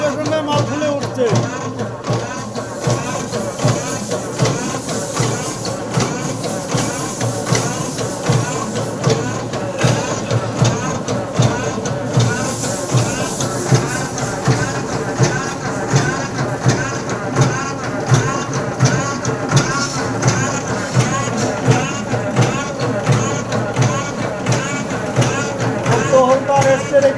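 A 21-hole batasa machine making jaggery batasa sweets runs with a continuous rattling, clattering mechanical rhythm throughout, fairly loud and steady, with a voice talking over it.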